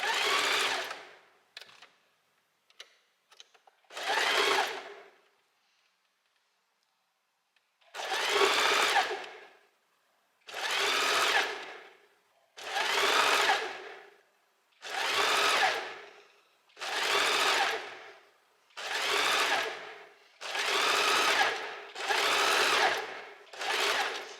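A sewing machine stitches the sleeve onto an off-shoulder sweater in a run of about ten close, loud bursts of whirring separated by short pauses, with a longer gap near the start and no voices.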